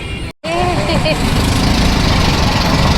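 An auto-rickshaw engine chugs loudly and steadily up close, with a brief dropout at the start before the rough idle continues alone.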